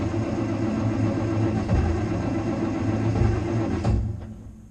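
An old tractor engine runs at a steady, rumbling idle in cold weather, close and loud throughout, with a brief throttle surge near the end before the sound drops away.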